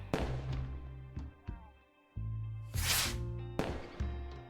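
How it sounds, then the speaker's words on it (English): Fireworks in the Rimworld video game: a few sharp launch thumps and bursts with hissing whooshes, set against steady game music and fairly faint overall. "Why does the launch sound so much louder than the actual firework?"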